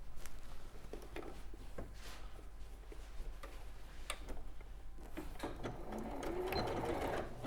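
A sewing machine stitches a quilt, flipping to sew the side from top to bottom, its motor running in a steady rapid tick of needle strokes with a few short pauses and a louder whirring burst near the end.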